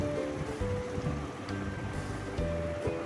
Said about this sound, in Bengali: তারপর এইভাবে ভেজে কচুরিগুলো আমার হয়ে গেল